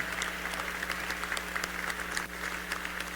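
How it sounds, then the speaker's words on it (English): At an evening speaking event, an audience applauds the VIPs in a fairly faint, even spread of clapping over a steady low electrical hum. "ladies and gentlemen, give them a round of applause, our VIPs for this evening"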